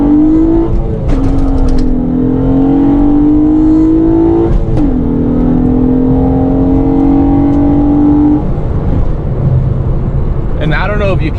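Honda J-series engine in a car pulling hard up a steep hill, a loud droning engine note rising steadily in pitch through long gear pulls, with a brief shift dip midway and a short lift near the end.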